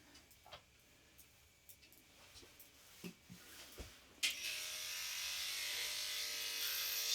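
Electric clippers shave a horse, starting abruptly after a few scattered clicks and handling taps and then running as a steady close buzzing hum to the end, with no talk.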